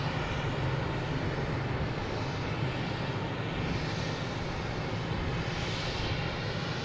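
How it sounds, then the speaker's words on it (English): A JetBlue airliner taking off from Boston Logan Airport, bound for Key West, gives a steady, broadband jet roar that holds at an even level throughout, distant rather than close, with no talk over it. "next taking off is JetBlue heading to"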